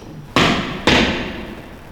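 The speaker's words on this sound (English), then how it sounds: "Somebody just threw rocks down there." Two sharp thuds half a second apart inside the derelict Eloise Asylum, like rocks thrown down onto a hard floor, each loud and echoing before fading into a quiet room.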